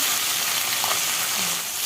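Fish heads sizzle steadily in hot oil in a pan, frying for a Bengali chhyachra with pui shak; a continuous close, loud hiss runs unbroken throughout.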